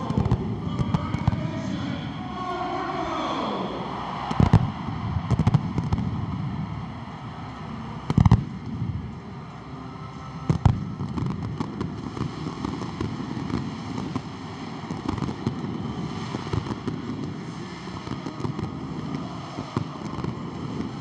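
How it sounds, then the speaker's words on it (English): Fireworks burst over a stadium in Rabat after the Morocco versus Egypt U23 final, sharp bangs and crackles popping irregularly over a steady roar of crowd and wind. "The stadium lights up again, the fireworks start now here in Rabat."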